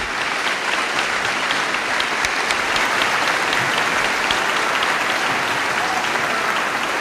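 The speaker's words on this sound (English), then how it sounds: "Please help me in celebrating their achievements with a round of applause." Graduation crowd applauding cum laude graduates, continuous dense clapping from a large audience at steady loudness for the whole stretch, with scattered sharper individual claps standing out.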